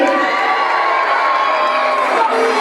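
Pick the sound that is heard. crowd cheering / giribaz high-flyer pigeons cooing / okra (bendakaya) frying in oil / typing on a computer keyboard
crowd cheering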